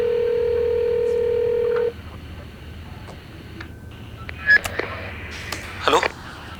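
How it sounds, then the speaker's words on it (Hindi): A telephone gives a steady tone for about two seconds, then goes quiet; a run of short dialing beeps and clicks follows in the second half, close and moderately loud. "बार बार फोन करके परेशान मत कर।"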